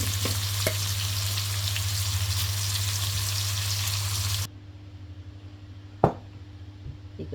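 Mustard seeds sizzle and crackle in hot oil for tempering, a loud continuous frying hiss that cuts off abruptly, leaving a quieter background with a single sharp pop.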